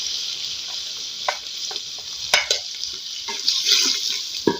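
Masala and onions frying in a pan for kadhi pakora, a steady bright sizzle with scattered crackles and stirring clinks, fairly close and alone without talk.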